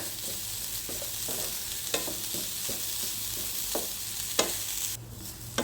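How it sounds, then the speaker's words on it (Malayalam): Ground coconut paste with mustard seeds being stirred in a pan for cheera thoran, a spoon scraping in repeated strokes over a steady sizzle, close and alone. "അരപ്പ് നന്നായി ഒന്ന് ഇളക്കി കൊടുക്കാം"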